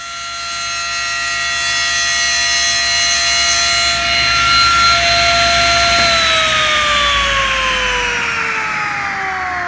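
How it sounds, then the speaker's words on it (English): A power saw blade cuts through wood for a bookcase glass door, a loud steady whine with strong tonal harmonics that drops in pitch partway through as the blade bogs under load, continuous and close. "So let's take this little bit of a saw blade cut first."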